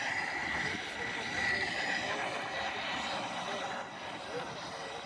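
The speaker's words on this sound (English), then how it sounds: "Got the Air Force F-35A along with the Navy F-35C." Military jets at an airshow, including an Air Force F-35A and a Navy F-35C, give a steady, broad engine roar that holds throughout at moderate loudness.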